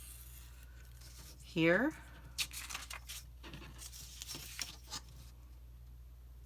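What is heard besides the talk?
scissors cutting paper spine pieces for journal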